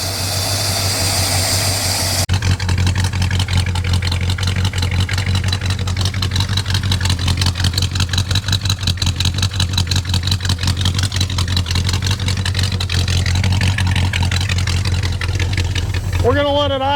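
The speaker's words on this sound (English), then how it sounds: "We're gonna let it idle for a little bit, build up some more oil pressure" A 1967 Lincoln Continental V8, revived after sitting for decades, idles with a steady, rhythmic low rumble and ticking pulses that stay close and even throughout, with a brief mechanical whine near the end.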